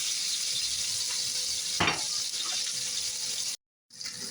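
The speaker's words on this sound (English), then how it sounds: "I'm going to sear the steaks for 2 minutes without moving them on each side" Steaks sear in a hot pan with a steady, dense sizzle. A tong scrape cuts in partway through, and the sound drops out briefly near the end before resuming.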